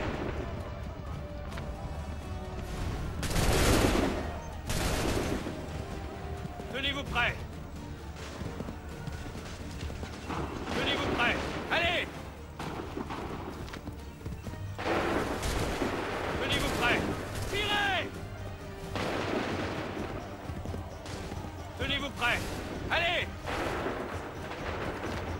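Musket volleys and scattered gunfire crack out repeatedly in an Assassin's Creed 3 battle, loud sharp bursts clustering at intervals over a constant din, with voices shouting commands in between.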